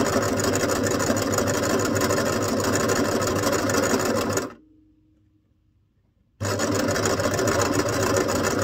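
A sewing machine runs steadily, stitching a zigzag stitch through journal pages, with a loud, fast mechanical whir. It stops for about two seconds and then starts up again.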